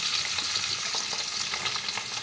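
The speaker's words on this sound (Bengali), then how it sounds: "আলু, গাজর, পেঁপে, সমস্ত সবজিগুলো ছেড়ে দিয়ে আমি একটু ভালো করে নাড়াচাড়া করে নেব।" Potatoes, carrots and papaya being stir-fried in a pan for a vegetarian shukto, a loud continuous sizzle with quick repeated stirring scrapes close by.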